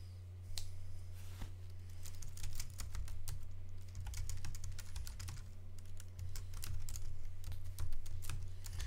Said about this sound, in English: I'm just, typing a bit.